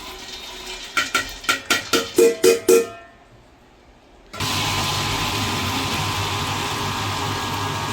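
About eight quick rhythmic knocks, a brief hush, then a wet grinder grinding soaked lentils for idli batter starts up with a loud, steady mechanical whir that continues unchanged.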